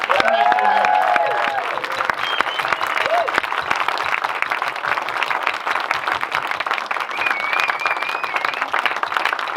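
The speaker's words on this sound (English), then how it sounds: "So I think we should all give Harry a massive round of applause." Audience applause after a Q&A at a film screening, a steady, dense round of clapping from a sizable crowd throughout, with faint voices and whistle-like tones mixed in.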